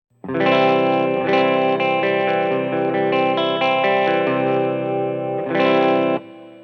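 A loud distorted Gibson Les Paul chord through a Line 6 POD Go rings out with a shimmering chorus effect, re-struck a couple of times and sustained for several seconds before cutting off.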